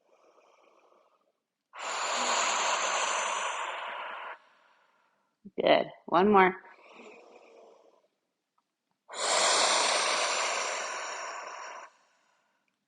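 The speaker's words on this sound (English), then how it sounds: "And deep breathing." A pregnant woman doing a Pilates exercise takes slow, deep breaths: two long, loud exhales separated by a quiet pause, and a short spoken instruction falls between them.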